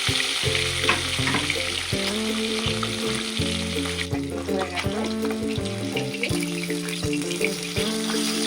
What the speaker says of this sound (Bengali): তেলটা গরম হয়ে গেছে, মাছের মাথাগুলো এক এক করে তেলের মধ্যে দিয়ে দেবো।